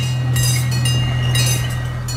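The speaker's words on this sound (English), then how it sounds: "Zoo trains are miniature trains used to transport visitors around zoos and amusement parks" A miniature zoo train runs with a steady engine hum and faint metallic rattles, loud and close, with no voices.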